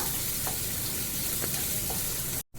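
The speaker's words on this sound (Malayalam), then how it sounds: "പച്ചമുളക് കരിവേപ്പില ഇഞ്ചി എല്ലാം ഇട്ട് കൊടുക്കുക നന്നായി ഇളക്കുക" Onion, green chilli, curry leaves and ginger go into hot oil that has fenugreek in it, for a prawn curry. A loud, dense, close sizzle of frying carries on without a break, with a few light stirring scrapes, and it cuts off abruptly at the end.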